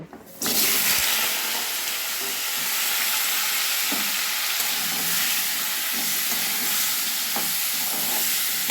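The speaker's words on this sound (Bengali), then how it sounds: "কড়াইয়ে সর্ষে তেল গরম করে নিয়েছি এবার কুমড়োগুলো আমি ভেজে নেব" Pumpkin pieces drop into hot mustard oil in a wok with a sudden loud hiss, then a steady close sizzle continues with occasional stirring scrapes.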